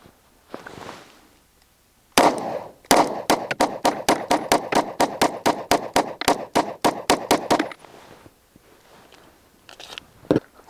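Rapid string of about twenty sharp pistol shots, evenly paced and loud, fired from a pistol test-firing Federal Hydra-Shok 124 grain hollow-point ammunition, with quieter handling noise before and after the string.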